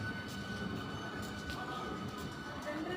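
A local train arriving at Marikuppam station, a loud steady rumbling roar of rolling wagons close by, continuous throughout with high hissing and clatter.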